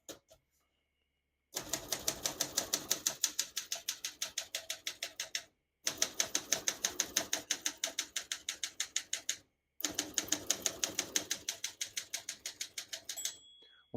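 Rapid mechanical keystrokes from a 1974 Olympia SM9 portable typewriter clatter in three long steady runs, separated by brief pauses, ending with a small bell-like ding near the margin.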